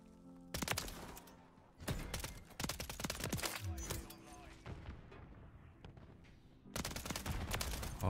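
Call of Duty Modern Warfare 3 gunfire crackles in repeated loud bursts and rapid volleys, dense overlapping shots filling most of the stretch with brief lulls between.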